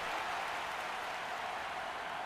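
Steady crowd applause from a Madden 23 football stadium as an injured player leaves the field, a dense even wash of clapping with no breaks across the whole stretch.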